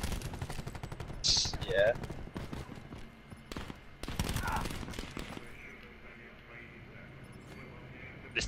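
A new shotgun fired in a first-person shooter game, several sharp, loud blasts spread through the first half, mixed with other gunfire and game effects, with someone talking over them.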